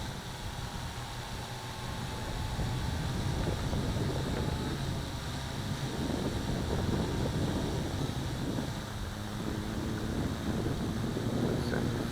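An east wind blows over a lake, making a steady, loud broadband roar with gusty swells as it buffets the microphone and no other distinct sounds.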